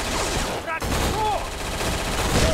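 Gunfire in the video game Black by Criterion Games, heard as dense, rapid bursts of shots under game sound, with a short dip in the middle and voices mixed in.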